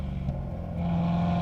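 BMW E92 M3 engine droning steadily from inside the car while driving, a brief, loud, even hum that rises slightly in pitch.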